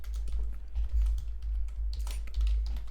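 Code is typed on a computer keyboard in a quick, uneven patter of soft key clicks over a low, steady hum. The keystrokes are close and fairly quiet, with no talk.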